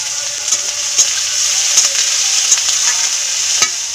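Onion paste and green chillies frying in a pan of oil, giving a steady hissing sizzle with a few sharper crackles and stirring clicks, close and even throughout.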